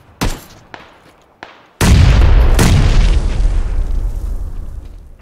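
A grenade explodes in a battle royale video game, a loud sustained boom with a long decaying rumble, preceded by several sharp gunshot-like pops.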